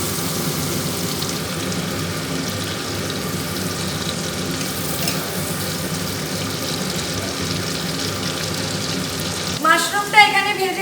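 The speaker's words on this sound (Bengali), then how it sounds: "আর এখানে এই যে আলু ভাজতে বসিয়ে দিয়েছি।" Potatoes frying in oil in a home kitchen pan, a steady, even crackle and sizzle running throughout at close range, with a brief clatter near the end.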